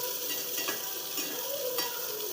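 Onion fries in a pan with a faint, even sizzle, broken by soft scraping strokes as it is stirred.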